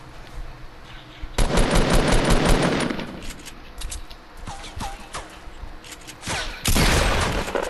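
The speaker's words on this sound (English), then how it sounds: "Why shooting at us?" Automatic gunfire in a squad shooter video game, loud sustained bursts of rapid machine-gun fire with a quieter gap and scattered shots, then another heavy burst near the end.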